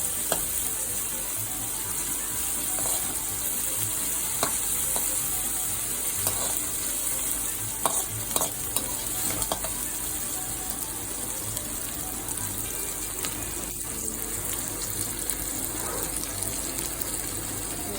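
Pasta sizzling and frying in a pan as sauce is added, a steady hiss with occasional stirring clinks and splashes, close and continuous without talk.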